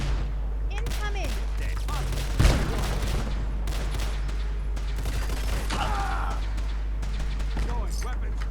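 Gunfire in Fallout 4: scattered sharp shots with one loud crack standing out, over a constant low drone, and voices talking alongside.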